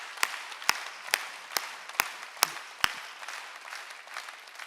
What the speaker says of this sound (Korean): 박수 치라니까 박수 치라니까